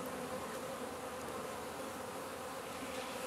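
Honeybees buzzing at a hive, a dense continuous drone of many insects close by, steady and unbroken, with no talk.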